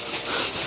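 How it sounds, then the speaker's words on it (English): Light hand sanding on a maple chair being refinished: one brief, steady abrasive rubbing stroke across the wood. "just do a light sanding on it, so that way any of these areas are a little smoother"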